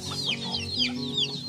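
Chickens outdoors in San Francisco give a brief burst of close clucking and squawking calls, a few quick notes over a soft background hum.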